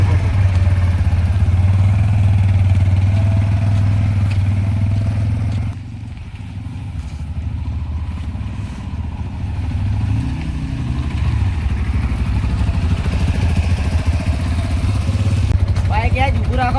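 Motorcycle engine idling close by in a steady low drone, dipping briefly midway before resuming, with people talking over it.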